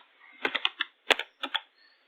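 Java code is typed on a computer keyboard in short bursts of crisp, close key clicks, with a brief pause between clusters in an otherwise quiet room.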